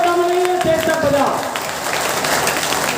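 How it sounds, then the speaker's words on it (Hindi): Crowd applause at a party gathering, a dense wash of clapping that swells in after a speaking voice and continues steadily to the end. "तालियों में दम नहीं है, तेज तक बजाओ।"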